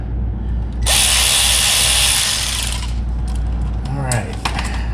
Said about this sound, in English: If we can get up in there to tighten down the hose clamp.